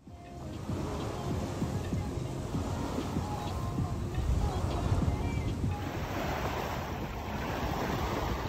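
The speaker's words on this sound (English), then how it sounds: "went down to the beach just to soak it all in" Ocean waves wash steadily onto a beach in Cancun, Mexico, a continuous broadband roar of surf with wind buffeting the microphone throughout, no voices.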